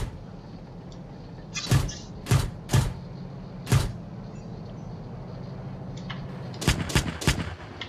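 M2 Bradley cannon fire aimed at a BMP-1 in the tank game GHPC: sharp gunshots, first a spaced series of four single rounds, then after a pause a quicker burst of three to four, all over low background rumble.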